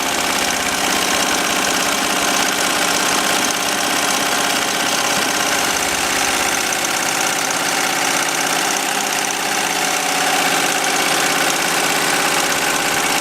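A Bravo X embroidery machine stitching on leather at 1,000 speed gives a steady, dense mechanical whir with rapid, even clatter, close and continuous, with no talking.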